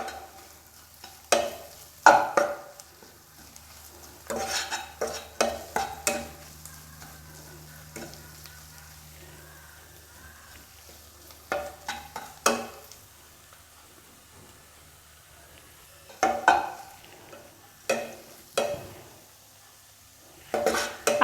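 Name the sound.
sautéing masala in oil for ridge gourd chutney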